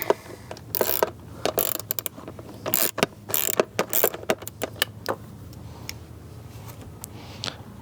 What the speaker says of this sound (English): there's one number 10 bolt in here that's super stubborn, but I finally got it out